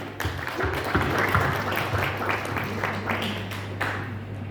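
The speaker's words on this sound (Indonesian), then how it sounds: "Kita tepuk tangan." A group claps together at a gathering, a fairly dense run of hand claps lasting several seconds over a low steady hum.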